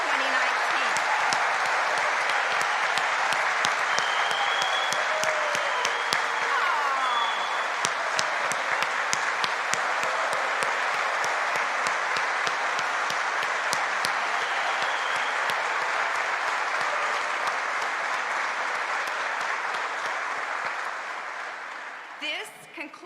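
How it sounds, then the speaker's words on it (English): An audience at the University of Kentucky College of Nursing pinning ceremony claps for the May 2019 graduating class, loud sustained applause that thins and fades near the end. "let's give a round of applause again for this graduating class of May 2019"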